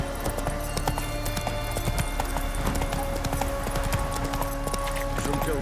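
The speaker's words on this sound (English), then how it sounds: "Whoa there, Roach." Roach, a horse in The Witcher 3: Wild Hunt, trots along in Velen with steady clip-clop hoofbeats under game ambience and music, with a faint whinny in places.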